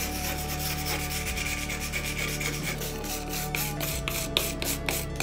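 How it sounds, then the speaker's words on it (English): Wire brush scraping loose bits off a wall in an abandoned Japanese bathroom: steady, close rasping strokes that turn into quicker rhythmic scrubbing near the end. "I'm using a wire brush to scrape away any loose bits of wall."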